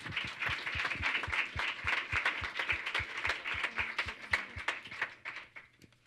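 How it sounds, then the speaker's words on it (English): A small group in a room applauds after a campaign presentation, sparse individual claps in a loose quick rhythm that fade out over several seconds. "How about a round of applause for our..."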